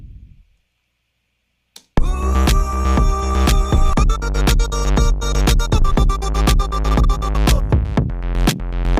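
After a brief pause, a rhythmic electronic passage begins with sharply chopped, stuttering vocal bursts from an automated gate cutting in and out in a fast pulsing pattern.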